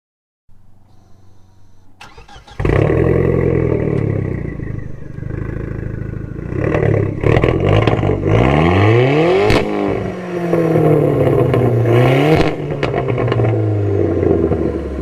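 A turbocharged, air-suspension Audi starts up and revs hard nearby, loud repeated rising and falling engine sweeps with turbo whine and a rough idle between pulls.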